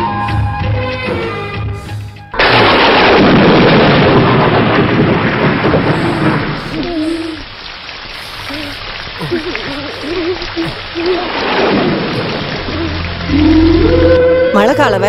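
Heavy rain pours down in a continuous dense roar, with rumbling thunder beneath it in a scene from the Kannada film Yajaman. Voices speak over the downpour now and then.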